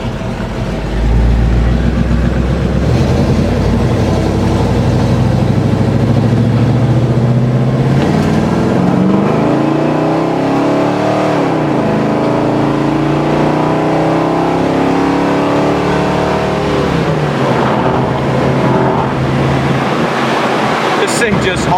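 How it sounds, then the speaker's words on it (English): A dark blue 1969 Chevrolet Chevelle SS with a four-barrel carburetor pulls hard down the road, its loud engine rising in pitch and dropping back at each shift under continuous wind and road roar, with a voice talking over it. "This thing just hauls down the road. Really shifts good. Kick 4-barrel kicks right in."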